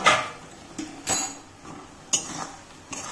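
A spoon stirs fish-head and cabbage curry boiling in a metal pot, making a few sharp, irregular clinks and scrapes against the pot over a soft background, with no talking.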